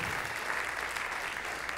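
Congregational applause fills a church service, a steady dense wash of many hands clapping at moderate distance, continuous without pause and with no voices standing out.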